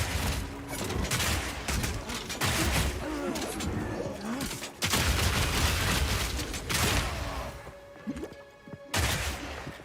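Crossbow grenades and explosive shots go off in Path of Exile 2 as dense, overlapping blasts and crackling impacts. The barrage is loud and nearly continuous, with brief gaps between volleys.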